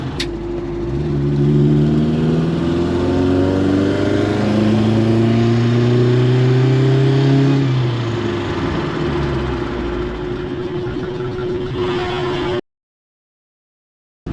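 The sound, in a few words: car accelerating to 80 km/h then braking for brake test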